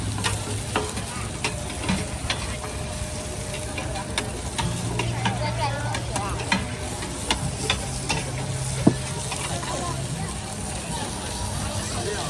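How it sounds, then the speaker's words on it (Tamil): An omelette fries on a griddle at a busy Taiwan night market, a continuous sizzle with scraping and clinking over a babble of crowd chatter and nearby voices. "ஆம்லேட் போடுறாங்கன்னு நினைக்கிறேன்"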